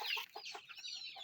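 Close, short clucks from a chicken in a quick series of rapid pulses, fairly quiet.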